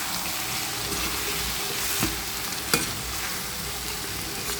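Marinated chicken fry, garnished with coriander, sizzles steadily in a pan, a loud, continuous close-up crackle with a couple of brief stirring clinks.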